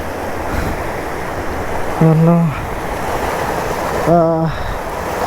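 Rushing river water pours through the small gates of the Godada dam (anicut) on the Sarada river near Anakapalle, a loud, steady roar broken by two brief tonal, voice-like calls.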